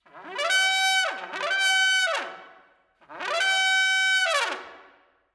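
A trumpet imitates an elephant call at the opening of a trumpet concerto: three loud, brassy blasts, each swelling up with a bending, sliding pitch before dropping away, played alone.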